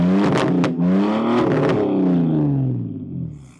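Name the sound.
straight-piped BMW Z4 engine revving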